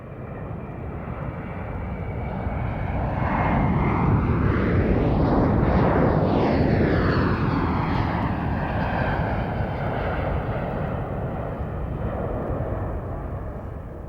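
Boeing C-17 transport aircraft at the Mildenhall air show, a loud, steady jet roar that swells as it passes close by and then slowly fades, with a sweeping pitch shift at the peak.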